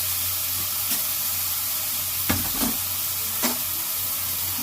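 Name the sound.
sautéing spices and vegetables in a pan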